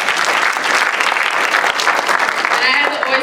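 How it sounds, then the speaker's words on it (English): Loud, dense round of applause from an audience at a Haitian cultural community celebration, sustained steadily throughout with crowd noise and some voices mixed in. "So please give yourselves a round of applause."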